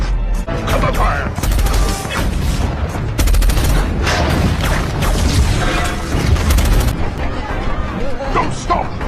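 Heavy gunfire and explosions roar through a Transformers movie battle scene, dense rapid bursts and booms filling the whole stretch loudly and continuously, with shouted voices mixed in.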